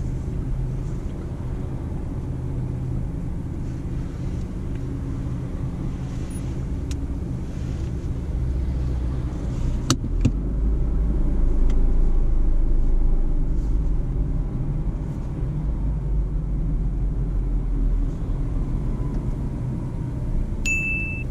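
A car engine idles and rumbles low and steady through a reverse parallel parking maneuver behind another car, swelling slightly midway, with a couple of dings and a brief clank.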